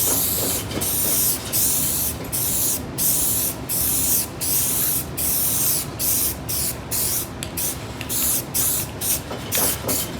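A coating is sprayed onto a flat surface in a series of hissing bursts, each lasting about a second with short gaps between, close and loud, with no talking.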